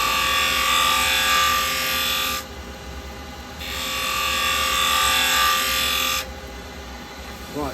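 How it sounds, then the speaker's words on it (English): A wood lathe spins while a detail chisel makes a clean-up cut, giving two sustained bursts of close, hissing scraping with a short gap between them over the steady hum of the machine. "this is done with our detail chisel"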